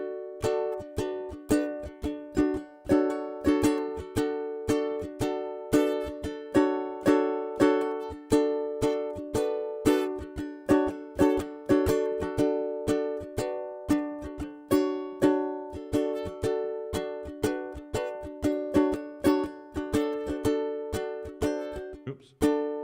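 Steady ukulele strumming in a quick, even rhythm, bright chords repeating throughout at moderate volume with no voices.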